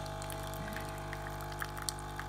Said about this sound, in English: I'm going to make a long coffee, and it makes quite a bit of noise.